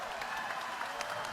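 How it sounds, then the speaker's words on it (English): Round of applause for two fighters after a grappling bout, a dense wash of clapping from the crowd that stays steady and moderately loud through the brief moment. "Let's give both these guys a round of applause"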